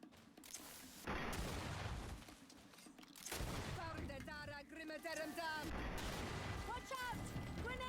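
A grenade blast and bursts of gunfire erupt in a video game, heavy booms and rattling shots arriving in loud clusters amid game effects, with a voice speaking over parts of the action.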